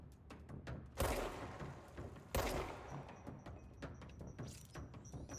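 Grenades exploding in the video game Control, two loud broadband blasts with booming low ends landing a second or so apart amid scattered gunfire cracks and thumps, then lighter sporadic shots continuing after.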